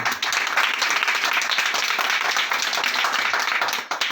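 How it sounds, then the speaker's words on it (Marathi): A crowd at a village acting workshop breaks into applause, a thick continuous patter of many hands clapping, steady and close, fading slightly at the very end. "टाळ्या वाजवा."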